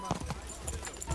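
Horse hooves clip-clop in the video game Kingdom Come: Deliverance 2, a brief run of muffled, rhythmic hoofbeats heard faintly for about a second.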